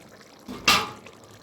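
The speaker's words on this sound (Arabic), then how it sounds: "انا ضفت له شوية مية" A short splash of water pours into a cooking pot of cauliflower, carrots and minced meat, a brief bright burst that stands out against a quiet background.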